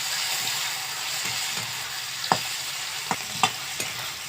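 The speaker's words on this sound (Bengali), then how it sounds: "রসুনগুলো ভালোভাবে লাল লাল করে ভাজবেন।" Crushed garlic frying in oil over a bay-leaf tempering, stirred in the pan: a steady close sizzle broken by a few sharp clicks of the spatula against the pan.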